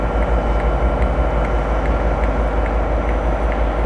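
West Coast Railways Northern Belle passenger train passing close by, a loud continuous rumble with rhythmic wheel clatter throughout.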